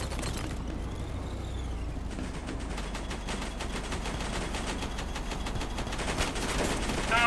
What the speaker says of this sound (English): And there's a teammate shooting at him.